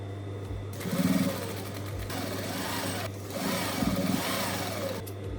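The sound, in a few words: sewing machine sewing pinned garment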